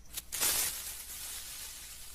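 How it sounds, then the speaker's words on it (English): The Minecraft creeper's hiss from the video game: a short, sharp hissing burst that fades into a softer, fizzing tail, heard alone and fairly faint. "Let's import the creeper sound."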